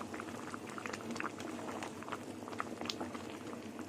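A curry with duck eggs, omelette pieces and potatoes simmers in a pot, giving a steady close bubbling with soft pops and gurgles throughout.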